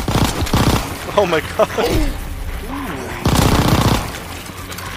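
Video game gunfire crackles in rapid automatic bursts at the start and again near the end, loud and close, with a voice speaking in between.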